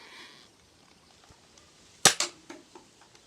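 A poorly performing Nerf toy blaster is fired, giving one sharp snapping pop followed by a couple of quick clattering clicks in an otherwise quiet room.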